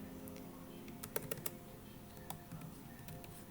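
Soft taps on a computer keyboard as an activity name is typed into a learning-management site, a short cluster of faint clicks in the middle of a quiet hum.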